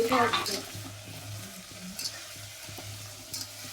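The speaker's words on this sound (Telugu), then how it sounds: "అంటే చికెన్లో ఉన్న వాటర్ అంతా దిగిపోయినంత వరకు ఫుల్గా ఫ్రై చేసేసుకున్నాను" Chicken pieces fry and hiss in a kadai while a utensil stirs them, giving soft scraping strokes and a few light clinks over a steady, moderately loud sizzle.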